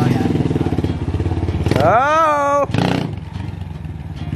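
A cheap full-size dirt bike engine runs loudly nearby, chugging at idle, then rising sharply into a hard rev that drops back to a rough idle, with a man's brief exclamation over it.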